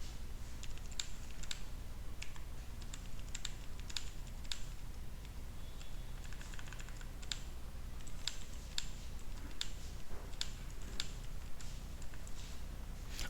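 Numbers are typed on a computer keyboard into an Excel spreadsheet, with quick irregular key clicks in short bursts over a steady low background hum, close and moderately loud.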